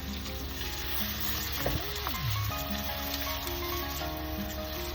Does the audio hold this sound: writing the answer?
no